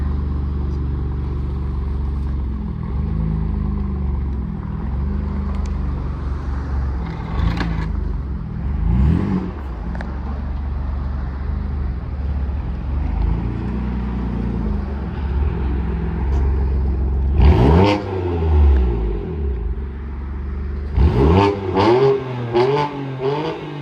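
BMW M4 F8X fitted with an AWE Tuning switch-path exhaust, valves closed, idling with a deep muffled rumble, then several throttle blips rising and falling, ending in a cluster of sharper revs, close by, no voices.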